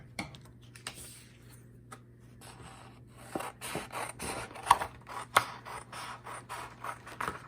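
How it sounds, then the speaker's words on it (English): Repeated crisp snips and rustling of paper being cut, close by, in an irregular rhythm with no talking. "I'm going to start to cut with my scissors."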